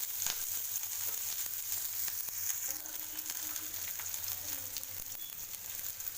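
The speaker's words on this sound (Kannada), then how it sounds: "ಈರುಳ್ಳಿ ಹಸಿಮೆಣಸಿನಕಾಯಿ ಹೊಂಬಣ್ಣ ಬರೋವರೆಗೂ ಸ್ವಲ್ಪ ಬೆನಿಗೆ" Onion and green chilli fry in oil for rava upma, an even steady sizzle with occasional soft spoon clicks and stirring scrapes, moderately close.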